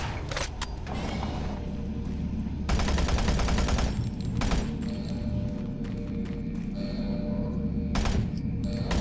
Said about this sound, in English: I don't know how to get past this Automated thing turret guns online. without getting lit up.